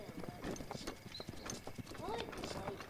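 Horses in The Legend of Zelda clop and shuffle with rhythmic hoofbeats and a faint whinny, while someone talks over them.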